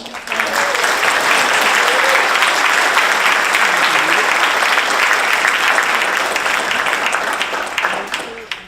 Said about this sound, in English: So please give a round of applause for everyone.